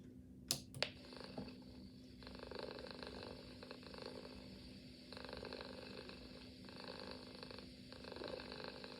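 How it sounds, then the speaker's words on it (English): A recorded cat purr plays from an MP3 player, a soft, low, rhythmic rumble that carries on steadily after two sharp clicks at the start. "So Paul's got the purr on an SD card now, and he's going to play it."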